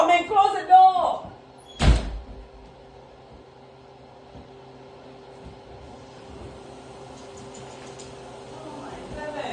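A door shuts with a single sharp thud near the start, heard just after voices talking in a home, followed by a low steady hum.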